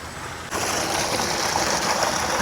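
Water gushes steadily from a solar-powered water pump in a Punjab village, a continuous rushing flow that grows louder after a brief quieter start, with the motor's hum buried beneath.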